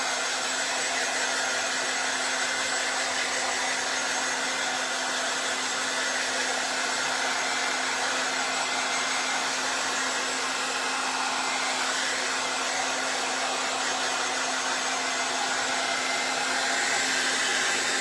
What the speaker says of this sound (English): I'm going to dry it because I want to iron it.